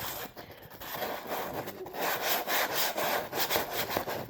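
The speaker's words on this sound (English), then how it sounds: "take you some real fine sandpaper, just like this, and just lightly sand them" Fine sandpaper lightly rubbing over a carburetor intake manifold for a triple Weber 40mm setup, a close, dry scratchy rasp in repeated short back-and-forth strokes that grows slightly louder toward the end.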